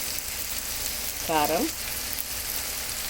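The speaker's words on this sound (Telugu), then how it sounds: "కాసేపు నూనెలో ఫ్రై అవ్వాలి." Ginger garlic paste, turmeric and spices fry in hot oil with a steady, soft sizzle throughout, and a voice briefly speaks a single word midway.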